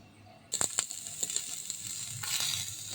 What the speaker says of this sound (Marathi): खोबरं असंच भाजून घ्यायचं आहे तेलाची गरज नाही खोबरं भाजायला